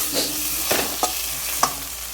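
Ginger garlic paste masala being stirred into onions in a pan while cooking palak creamy chicken, with steady sizzling frying underneath and a few scraping strokes of the spoon.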